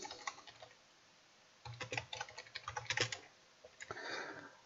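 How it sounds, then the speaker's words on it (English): A computer keyboard clatters as a name is typed into bell-ringing simulator software, with a short burst of keys, a pause, then a denser close run of clicks and a final flurry. "type in the name,"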